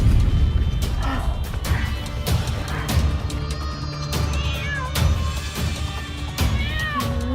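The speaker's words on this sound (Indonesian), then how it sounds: "berisik banget sih nih kucing" A cat meows repeatedly in rising cries over clattering bangs and knocks, fairly loud and close.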